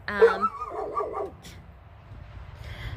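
A pet dog at home barks at the neighbors: a close, loud burst of several quick barks in the first second and a half, then only quiet room noise.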